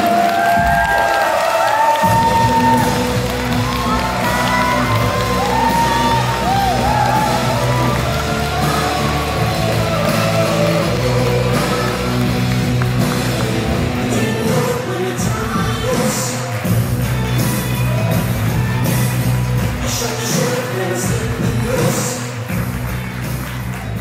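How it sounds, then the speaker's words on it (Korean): Wedding hall crowd cheering and applauding as the groom enters, a dense sustained roar of voices, whoops and claps over background music, loud throughout with some talk mixed in. "모두가 기다려 지금 이 순간을 큰 박수와 함성으로 함께 해주십시오"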